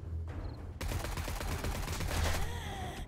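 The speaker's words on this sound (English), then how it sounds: "How did I miss all those shots when they were right close range?" Rapid video game gunfire in a multiplayer night raid in an old town, a dense burst of close, loud shots rattling for about two seconds after a brief quiet start, then fading into lighter noise.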